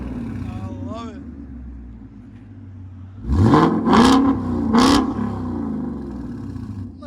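A 2023 Ford Mustang GT with its 5.0L V8 and MBRP sport cat-back exhaust, idling with a low burble before three loud, sharp revs in quick succession, each rising and falling back to a rumbling idle.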